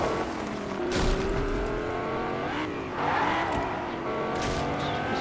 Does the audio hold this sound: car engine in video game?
yes